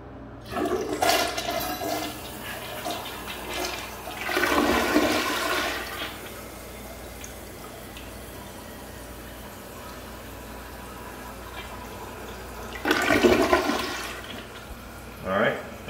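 An American Standard Cadet toilet flushes loaded with paper, two distinct rushing flush surges of water separated by quieter refill hiss, fairly close with no talking.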